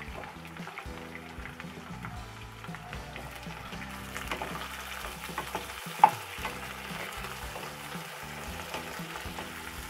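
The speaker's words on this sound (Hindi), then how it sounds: "और आलू और गोभी को अच्छे से हम फ्राई कर लेंगे।" Diced potatoes and cauliflower fry in hot oil, giving a steady low sizzle with stirring and occasional clinks from a utensil throughout.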